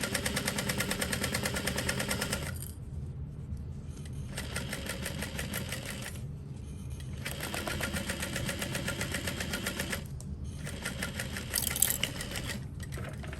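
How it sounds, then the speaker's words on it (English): Sewing machine running in long steady bursts as it stitches a 1/4 to 3/8 inch seam around the outer edge of a small parachute knapsack, with short pauses between runs and no talking. "I'm just gonna sew at like a 1/4 inch seam allowance, 3/8 of an inch, something like that, all the way around the outer edge"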